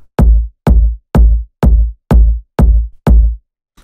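Seven punchy, deep tech house kick drums thump in an even rhythm, loud and dry, each with a short boomy tail and silence between hits.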